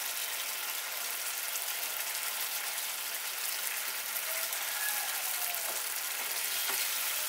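Eggs for Bengali-style egg paturi frying in a covered pan, a steady soft sizzle holding evenly throughout with faint crackles, no voices.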